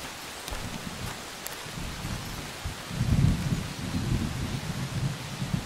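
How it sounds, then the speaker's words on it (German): Thunder rumbles through steady rain in a forest setting in the video game Among Trees, the low rolling swelling loudest midway and holding over the continuous patter of rain. "Ist gewittert."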